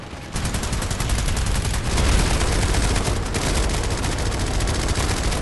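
Sustained rapid automatic gunfire in the Planetside 2 video game during a Terran Republic assault on a Vanu-built base, dense and loud throughout with a brief lull near the start.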